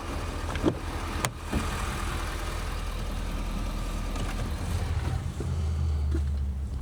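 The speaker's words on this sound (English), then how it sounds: "Now, it will hold if I shut the truck off, which I'll do now." A truck engine idles with a steady low rumble, a couple of clicks sounding before the hum continues at an even level.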